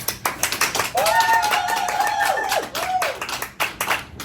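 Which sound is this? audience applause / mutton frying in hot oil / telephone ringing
audience applause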